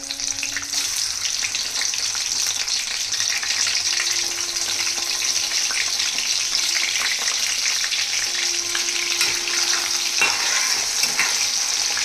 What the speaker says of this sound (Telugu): ఈ ఎండి చేప ముక్కలు నీసు వాసన పోయే వరకు చక్కగా ఫ్రై చేసుకోవాలి.